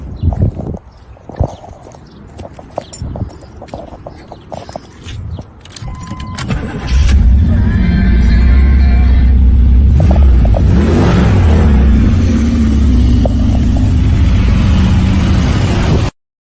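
Port-fuel-injected Camaro muscle car starting up after some clicks and rattling, then settling into a loud, deep, steady idle with a rumbling low end, close by and without talk.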